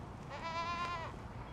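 A single goat at a goat handling and fitting show lets out a clear, wavering bleat lasting about a second, heard at moderate distance over steady background crowd noise.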